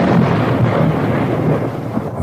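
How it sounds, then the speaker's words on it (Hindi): Thunder rumbles loud and close in a stormy night scene near an old haunted mansion, a dense low roll that fills the whole stretch with no voices. "तभी बिजली कड़की।"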